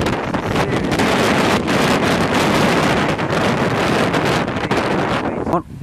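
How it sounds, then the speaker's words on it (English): Strong gusting wind roars steadily across an open, exposed Shetland coast as a gale approaches, loud and close throughout with heavy buffeting on the microphone. "And the wind is picking up"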